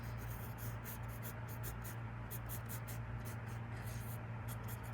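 A pencil scratches across paper in short repeated strokes during a sketch, close and soft against a steady low hum.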